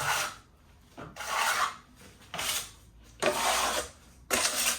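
A plaster bead being scraped up during the first coat of a plaster blending job: five rough, rasping strokes close by, each about half a second to a second long, separated by short quiet pauses.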